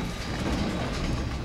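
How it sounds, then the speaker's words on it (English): Train carriage on the line out of Skagway, Alaska, heard from on board as a steady, loud rumbling roar with faint rhythmic rattling, no talking. "It's our train."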